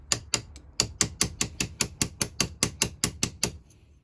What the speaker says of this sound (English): Give that a twist and a tap.